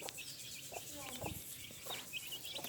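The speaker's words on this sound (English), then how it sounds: "These are the chicks." Small yellow and white pet chicks out on a lawn, giving faint high repeated peeps scattered through a low background hum, fairly distant and quiet.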